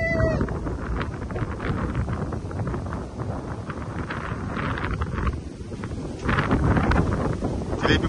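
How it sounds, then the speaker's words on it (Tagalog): Strong wind gusting by the sea, a steady loud roar of buffeting across the microphone with a brief surge near the end, while people talk over it. "Sobrang lakas po ng hangin dito."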